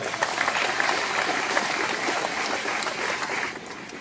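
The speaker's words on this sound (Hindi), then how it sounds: "जोरदार ताली से स्वागत करें।" An audience at a Catholic men's annual assembly on the Saint Joseph feast in Mandar claps to welcome someone, a sustained dense patter of applause that eases slightly near the end.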